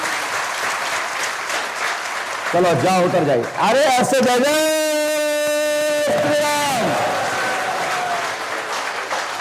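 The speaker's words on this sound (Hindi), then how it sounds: "यदि सही लगा और ये संतुष्ट है तो ताली बजा के जाइए आप लोग।" An audience at a live Hindu darbar gathering applauds in a loud, continuous wash that runs under shouting and chanting voices, with a sustained sung tone rising in the middle.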